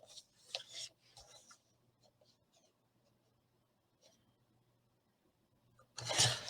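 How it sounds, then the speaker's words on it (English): A paper trimmer cuts the corners off a tag. Short scraping, rubbing blade strokes come in a few bursts, followed by a quiet stretch and then a louder sharp slicing sound at the end. "So if I just use my trimmer here, I can see those 2 dots there and there. Let's just cut those."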